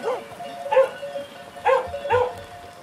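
A shepherd dog working with a flock of Segureña sheep in the Jaén countryside gives a few short, spaced barks and yips, mid-distance, with quiet outdoor background between them.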